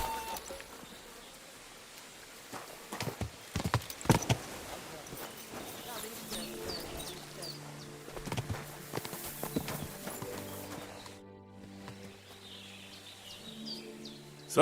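Horse hooves clip-clop softly in Kingdom Come: Deliverance II, an uneven trot over a quiet outdoor bed of birdsong and buzzing insects, with a few louder hoof strikes early on.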